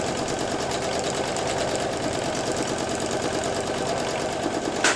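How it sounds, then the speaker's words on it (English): A sewing machine runs continuously while free-motion scribble stitching with black thread, a steady rapid mechanical whir and needle patter held at an even level throughout. "What I would call this is scribbling with my sewing machine."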